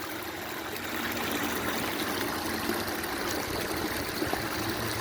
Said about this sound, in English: Oh, they got water here, running water.